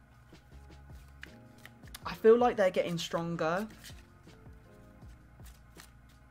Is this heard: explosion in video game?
no